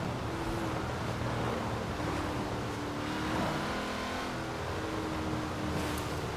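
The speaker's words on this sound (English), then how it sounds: "driving through the city in a supercar" A supercar, a Koenigsegg CCX, drives through city streets with its engine holding a steady, close drone that swells slightly around the middle, no talking over it.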